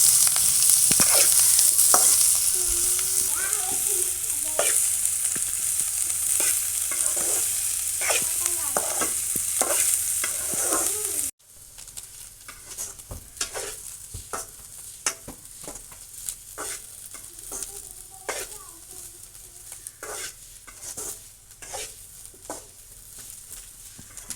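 Chutney ingredients frying in oil while being stirred: a loud, bright sizzle for the first half, then quieter frying with repeated sharp scraping and clacking strokes of a spoon in the pan.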